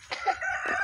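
A rooster crows once, a short, close, bright call rising and holding briefly, with no voices around it.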